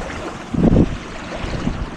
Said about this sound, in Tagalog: Ay, may alon.